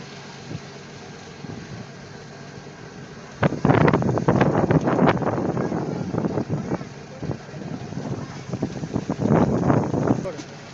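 A motor boat runs down a river in the Sundarbans mangrove forest, its engine a low, steady drone with wind buffeting the microphone. Voices come in over it in bursts.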